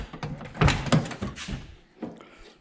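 Doors of a 1973 Datsun 240Z with faulty latching mechanisms being worked, several close clunks and rattling thumps over a couple of seconds with no talk.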